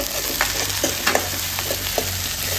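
Brinjal and curry leaves frying in a pan with onion and garlic give a steady close sizzle, with scattered crackles and pops and a few stirring scrapes.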